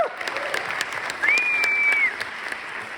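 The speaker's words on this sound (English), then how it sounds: "So I want to give them all a round of applause to start out with." An audience gives a round of applause at the close of a live performance show, steady clapping filling the room alone at moderate loudness for a few seconds.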